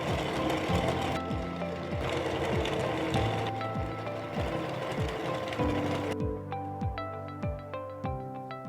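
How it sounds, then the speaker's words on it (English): A yarn winder turns balls of yarn into yarn cakes with a rhythmic mechanical whir and repeating ratchet-like clicks that shift to a lighter, sparser ticking near the end, close and steady with no talking. "So I take my balls of yarn and I wind them into yarn cakes."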